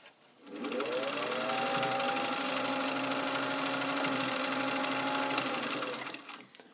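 A restored Singer 201 vintage all-metal sewing machine stitches steadily through a dense fabric seam, its close, continuous motor whir and rapid needle chatter running for about five seconds before stopping.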